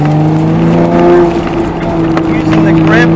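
An autocross car's engine holds a steady, droning pitch under load, rising slightly as the driver stays on the throttle, close and fairly loud.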